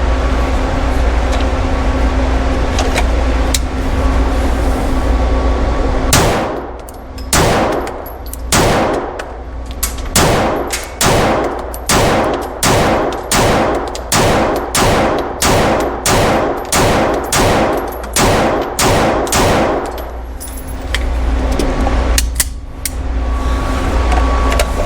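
Rapid, evenly paced pistol shots from a Staccato XC fired at a steel target, about twenty loud close reports in a steady string, each with a sharp ringing impact, with a pause before the volley starts.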